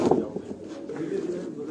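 Pigeons of many breeds coo softly on a rooftop, low throaty calls close by with a voice talking alongside.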